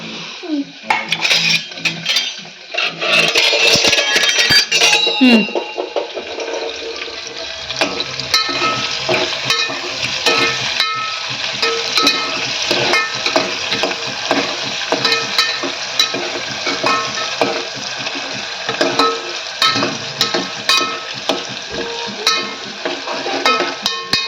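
Vegetables for veg pulao frying in a pan, a loud steady sizzle with constant metal scraping and clinks from stirring, close and continuous throughout.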